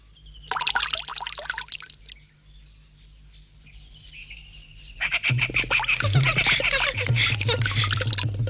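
In a cartoon, water pours for hand washing in two splashy bursts, the second longer and fuller, with light chirpy tones mixed in.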